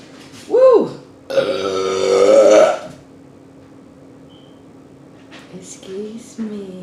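Loud, close burps while eating breakfast, a short one and then a long, drawn-out rumbling one, followed by quieter mouth sounds and smacking.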